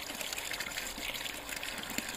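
Water gushing under pressure from a newly started borehole in the Rostov region, a steady, dense rushing and splashing that continues unbroken and close by, with no voices.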